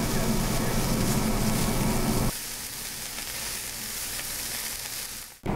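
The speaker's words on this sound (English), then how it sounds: "So stir-fry the beef for 1 to 2 minutes." Beef stir-fries in an oiled skillet, a dense, close sizzle that drops to a softer, steady frying hiss partway through and cuts off at the end.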